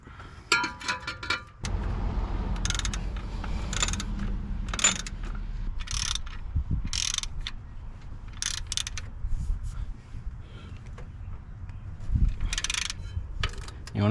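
13 mm ratchet tightening alternator bolts on a first-generation Cummins engine, quick bursts of close metallic pawl clicks in repeated strokes with brief pauses between.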